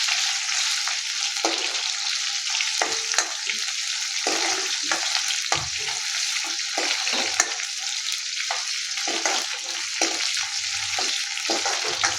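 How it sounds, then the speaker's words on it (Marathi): Onion frying in a pan, a continuous loud sizzle close up, broken by frequent scraping stirs of a spatula throughout. "कांदा छान फ्राय झाला."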